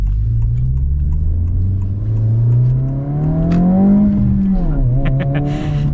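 A 2025 Honda Civic Si engine hums under load, its pitch climbing steadily, then dropping briefly during a manual gear shift before settling again, heard from inside the cabin.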